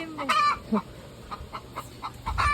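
A hen clucking after laying an egg, giving a string of close, fairly loud squawking clucks in an uneven rhythm, alone with no talk.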